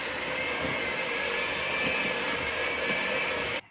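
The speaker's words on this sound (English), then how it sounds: "we'll mix that up with the mixer" An electric hand mixer beats cake batter with flour for a Boston cream pie, running as a loud, steady motor whine close by that holds constant and then cuts off abruptly at the end.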